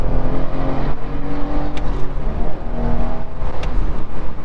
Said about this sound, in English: Let's do a third gear pull